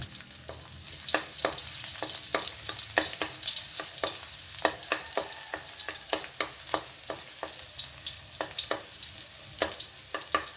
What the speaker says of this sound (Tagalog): Lagyan na natin yung ating bawang.